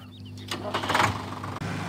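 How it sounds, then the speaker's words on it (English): A small tractor engine starts up in the Farming Simulator video game. A low idle hum turns into a brief surge of cranking and revving, then the engine settles into a steady drone. "Oh, that is a really small tractor."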